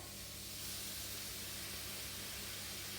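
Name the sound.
onions sizzling in pan as tinned tomatoes added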